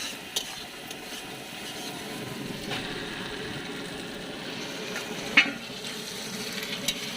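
Meat fries in a pan with onions and garlic while being stirred, a soft, continuous sizzle broken by occasional scraping clicks of the spatula, one sharper knock standing out.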